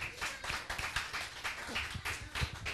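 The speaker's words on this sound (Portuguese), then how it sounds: "Uma salva de palmas pro Jean!" Audience clapping for a performer named Jean on a Brazilian TV variety show, a dense steady patter of many hands with brief louder bursts, continuing throughout.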